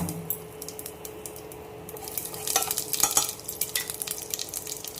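Paneer curry with garam masala stirred in a pan, a low sizzle under a quick burst of metallic spoon scrapes and clinks that builds in the middle, with no voices.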